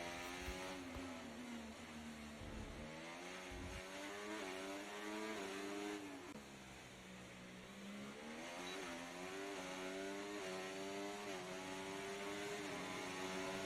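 Formula 1 car racing around Monaco in F1 24, a high engine whine rising and falling through upshifts and downshifts, steady and close, alone without speech.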